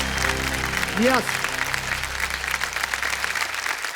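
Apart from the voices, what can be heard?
studio audience applause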